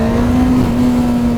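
A motorcycle pulling a wheelie off the line gives a brief, loud, steady engine drone with a strong sustained tone, heard close and alone.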